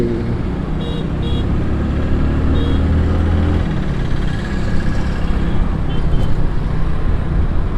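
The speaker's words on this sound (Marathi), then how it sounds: "हो, हो, हो, आहे नुसतं ट्रॅफिक आहे बाई सकाळ सकाळ" Steady morning road traffic on a Pune street, a dense wash of car, bus and motorcycle engines with occasional horn-like tones, continuous and moderately loud throughout.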